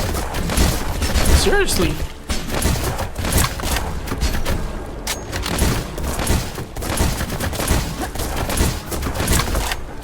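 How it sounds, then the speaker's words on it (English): Rocket launcher fire against sturdy creature enemies in the video game Black Skylands, a dense barrage of repeated blasts and thuds over a busy battle din, loud and continuous, with someone talking over it. "Even the rocket launcher is struggling here."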